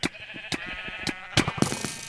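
Sheep in the Minecraft video game bleat several times in quick succession, the game's short bleats punctuating a steady background hum.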